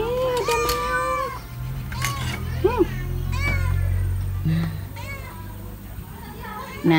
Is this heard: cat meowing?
yes